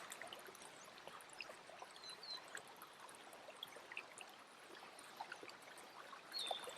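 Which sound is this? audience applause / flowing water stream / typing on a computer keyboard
flowing water stream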